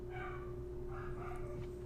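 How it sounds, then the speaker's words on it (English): A pet dog barks and yips in short, excited bursts at a distance, faint against a steady electrical hum indoors. "Here's my doggy going crazy."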